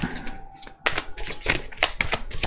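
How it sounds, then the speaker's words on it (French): Tarot cards are laid out one by one on a table, producing crisp, close snaps and slaps in an uneven rhythm with brief shuffling rubs between them. "On va mettre 6 cartes en haut, 6 cartes en bas,"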